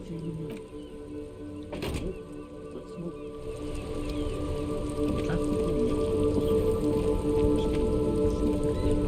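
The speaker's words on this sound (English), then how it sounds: "Stuck in the rain in a traffic jam, man." Rain patters steadily while stuck in a traffic jam in Disco Elysium, a soft continuous hiss that gradually swells, with a sharp knock early on and a faint hum beneath.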